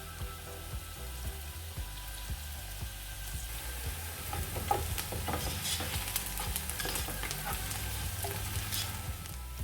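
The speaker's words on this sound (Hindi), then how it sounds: "प्याज को बस हम इतना ही ब्राउन करेंगे" Soft, steady sizzling of onions frying in a pan, with occasional stirring scrapes, quiet and close, no one speaking.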